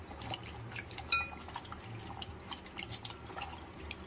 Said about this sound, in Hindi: गाइस अब हम इन करेलों को बीच पानी डाल देंगे